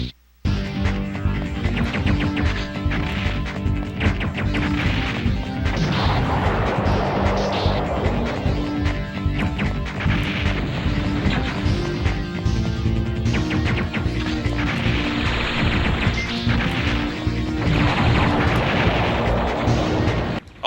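Continuous loud booms and blasts from bomb explosions in the PlayStation game Silent Bomber, layered over driving game music with a dense, unbroken rumble and repeated heavy impacts.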